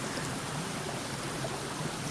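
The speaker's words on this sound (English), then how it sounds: "Very busy water. Thank God it's the last stream crossing." A fast, busy stream at an Appalachian Trail crossing in New Jersey rushes in a dense, even wash of water noise, close and loud with no letup.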